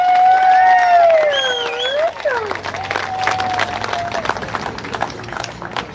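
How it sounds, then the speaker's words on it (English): An audience at a live community event gives a round of applause with cheering and whistles, a steady crowd of clapping that starts loud and settles into a busier, softer patter. "Give her another round of applause"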